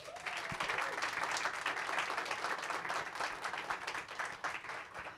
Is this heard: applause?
yes